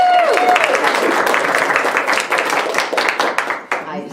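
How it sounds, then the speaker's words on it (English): Applause for bagpipe players at a coaching session, a dense steady patter of clapping that carries on loud throughout and thins slightly near the end, with a brief pipe tone at the very start. "Applause for the pipers."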